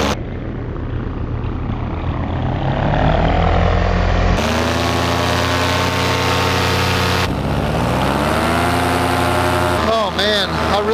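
A small aircraft's propeller engine drones loud and close in a low flyby over trees, its pitch shifting as it passes, with abrupt changes in the sound as it continues.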